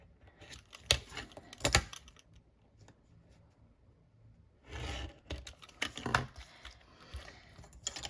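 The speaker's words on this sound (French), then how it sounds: "Voilà, je fais le dernier. Et je marque mes plis." Winter scrapbooking paper is creased with a bone folder, giving crisp scraping and crackling strokes in two clusters separated by a quieter gap, close and fairly faint.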